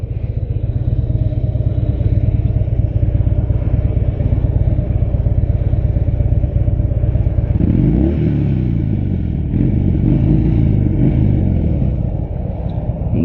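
A 2016 Harley-Davidson Low Rider motorcycle engine rumbles loudly nearby, revving up and down with gritty, throaty swells over a constant deep idle.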